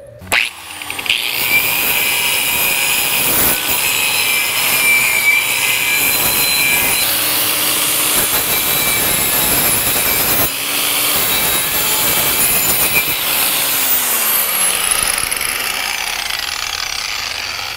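A wire wheel on a power tool grinds rust off a car exhaust pipe during a repair, a loud, continuous harsh scraping whine that holds steady for most of the stretch with brief dips as the wheel shifts against the metal.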